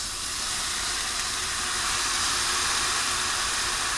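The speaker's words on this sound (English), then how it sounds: "Now the next thing I'm going to add some soy sauce." Soy sauce hits a hot pan of fried rice with a loud, steady steam-like hiss and sizzle that holds for about four seconds with no talk.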